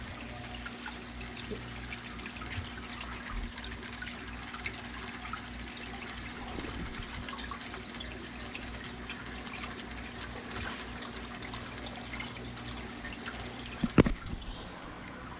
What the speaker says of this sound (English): There's the power head right there working.